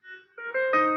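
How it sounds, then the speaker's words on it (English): A music track edited in Final Cut fades in over about a second, soft tones at first and then swelling louder as more notes stack up, with no one speaking. "So it's a little gradual fade in on the music."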